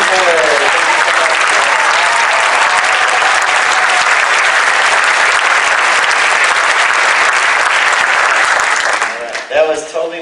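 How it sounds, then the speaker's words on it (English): A community band concert audience gives Keith Miller another round of applause. Loud, dense, continuous clapping fills nearly ten seconds before breaking off abruptly as a voice starts speaking. "let's give another round of applause to Keith Miller"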